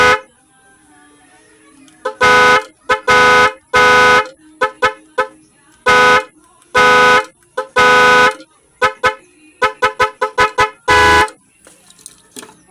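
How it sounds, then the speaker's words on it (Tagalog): Loud magic horn fitted to a motorcycle blares in a string of short and longer honks, some quick bursts stuttering together, close to the mic with a faint background hum between blasts. "Gumagana na, malakas na siya. So, yan yung unang busena."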